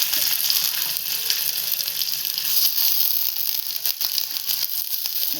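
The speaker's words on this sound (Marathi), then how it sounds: "वास पण छान येतो तुपात गरम होईपर्यंत" Leftover modak frying in hot ghee gives a steady, bright sizzle with crackling pops, close and constant throughout, with no voices heard.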